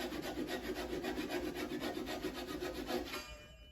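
A hand saw cuts through wood in long, full-length strokes, a steady rhythmic rasp repeating close and loud for about three seconds before stopping.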